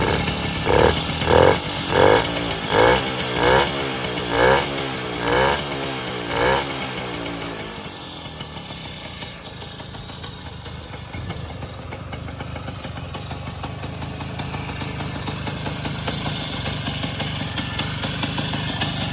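A 1962 Zundapp Combinette 50cc two-stroke moped engine revs in several short bursts, rising and falling sharply, then settles into a steady, rattling idle close by.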